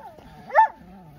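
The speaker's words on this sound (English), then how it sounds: "We've got a jealous dog" A jealous dog on a walk lets out a single short, whiny bark at close range over a low background murmur.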